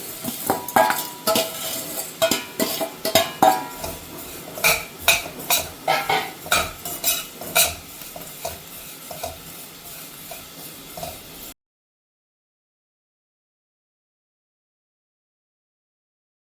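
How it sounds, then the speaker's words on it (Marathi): Dal and rice dry-roasting in a pan for homemade baby cereal, with a steady series of spoon scrapes and clinks against the pan for about eleven seconds before it falls silent. "त्यामध्ये उरलेली सुद्धा आपल्याला अशीच भाजून घ्यायची आहे"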